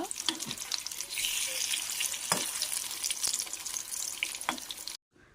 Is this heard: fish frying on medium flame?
yes